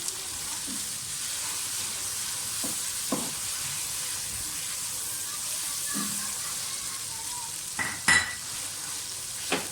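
Mutton frying bhuna-style in a pot for degi palak gosht gives a steady, loud sizzle throughout, broken by a few sharp clanks and scrapes of a spoon against the pot, with no talking.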